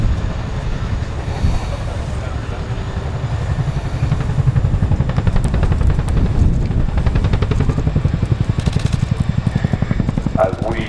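RAF Chinook twin-rotor helicopter performing a role demonstration at the Cosford airshow, a loud steady low rumble with rhythmic rotor pulsing that strengthens midway, close and continuous, with a commentator's voice over the public address.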